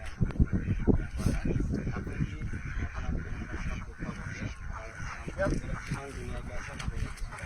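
Ducks on a farm beside a pond quack and honk in an irregular, busy chorus nearby while a person talks over them.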